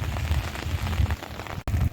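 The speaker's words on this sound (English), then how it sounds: "The steady downpour continues" Steady rain pouring down in a windy storm over metro Phoenix, Arizona, a dense continuous hiss of drops spattering on surfaces nearby, with no voices.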